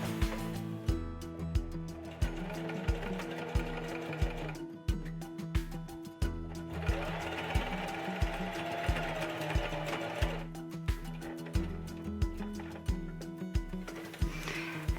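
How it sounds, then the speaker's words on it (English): A sewing machine stitches close to the edge of jacquard ribbon on a ribbon cuff bracelet, running in bursts of rapid, even mechanical ticking heard up close, with short pauses between runs. "we're just going to stitch really close to the edge of the jacquard ribbon"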